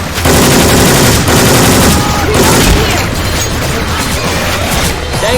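Syphon Filter weapon sound effects firing in Left 4 Dead 2: loud, dense, continuous automatic gunfire with rapid overlapping shots and booms filling the whole stretch.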